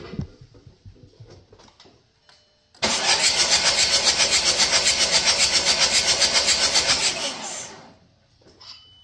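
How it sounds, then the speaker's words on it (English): A TDI diesel engine fitted in a Toyota Tacoma is dry cranked with all glow plugs removed, giving a loud, fast rhythmic starter chug for about five seconds before stopping, with quieter workshop handling noises before and after. "I'm just gonna do a quick dry crank just to see if anything blows out of the cylinders."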